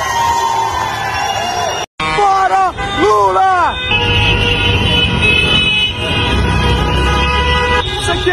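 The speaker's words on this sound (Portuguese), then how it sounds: "o povo já tá buzinando igual um doido" Car horns honk repeatedly along a street, mixing with a busy crowd's hubbub, cheering and passing traffic, with a long sustained horn blast running through the second half.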